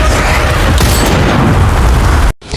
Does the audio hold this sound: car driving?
no